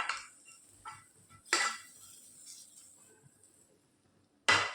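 A spoon stirs vegetable kurma in a metal pot just after curry leaves go in, making a few sparse, quiet scrapes and clinks with near silence between them.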